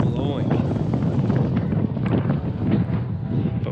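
Strong wind gusting outdoors by a snowy lake trail at a nature preserve, a loud, steady roar of buffeting microphone rumble throughout, with a voice mixed in.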